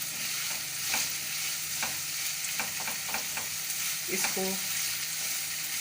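Red and green capsicum stir-fried in a pan for rice, a steady close sizzle broken by scrapes and clinks of a spatula against the pan, with one brief spoken word near the start.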